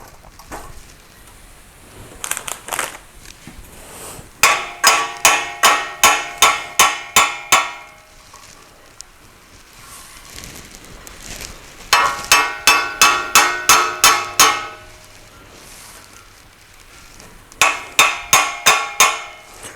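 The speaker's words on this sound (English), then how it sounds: "we'll just beat into place and weld" Hammer blows drive steel into place before welding, arriving in three clusters of sharp, ringing metallic strikes, each a quick run of evenly spaced hits separated by quieter gaps.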